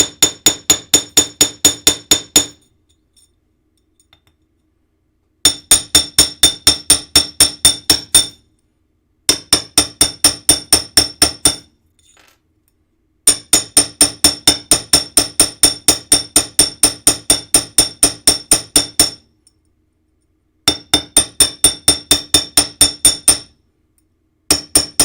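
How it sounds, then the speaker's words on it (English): A hammer flattens wire on a hard surface as the piece is flipped back and forth: rapid, evenly spaced metallic strikes in loud, close bursts of a few seconds each, separated by short silent pauses. "So I'm flipping it over back and forth to make sure I'm creating a really even hammering flatness."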